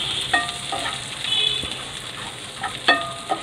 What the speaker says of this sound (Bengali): বাঁধাকপি কাটা দিচ্ছি।